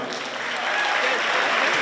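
Applause for a girls ice hockey team at a school pep rally, a dense, steady clapping from a large crowd that swells slightly and stays loud throughout.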